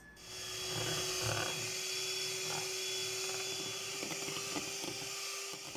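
An electric mixer whirs steadily as it beats egg whites with a pinch of salt, a continuous buzzing drone with faint scraping knocks against the bowl throughout.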